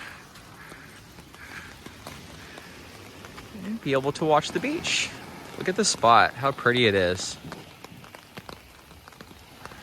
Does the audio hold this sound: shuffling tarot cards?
no